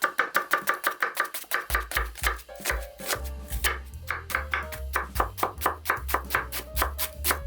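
A knife minces onion on a cutting board in quick, even chops, close and distinct, with rhythmic taps running throughout and no talking.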